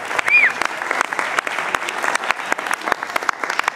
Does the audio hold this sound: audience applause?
yes